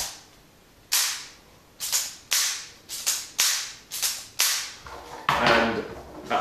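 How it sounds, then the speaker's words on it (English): A K'nex MP11 toy gun mechanism with a rubber band fitted, firing in repeated sharp snapping thuds roughly every half second, close and punchy, with a rattle near the end. "it makes a nice little thud noise when you put a rubber band on it"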